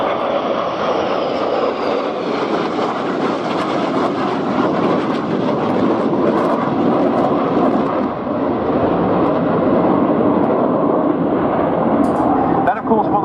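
French Navy Rafale jets flying in column formation with arrestor hooks lowered pass at an air show, a loud, steady jet roar that fills the whole stretch, with a commentator talking over it.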